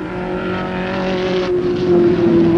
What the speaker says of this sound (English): Donohue hurries onward across the flat central Florida landscape